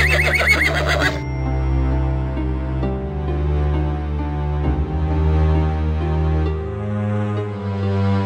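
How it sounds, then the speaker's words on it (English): Horses harnessed to a driverless carriage whinny loudly at the start, followed by a low droning musical background with soft rhythmic hoof-like beats. "The steeds fret impatiently."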